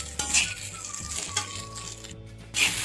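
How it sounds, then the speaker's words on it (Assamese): Poha filling stirred and fried in a pan, with a few scraping stirs and light sizzling, plus occasional sharp clinks of a utensil against the pan, close by and without talk. "ধুনীয়াকৈ লৰাব, বহুত বেছি ভাজিব নালাগে"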